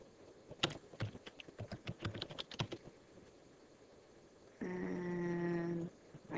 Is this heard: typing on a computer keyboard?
yes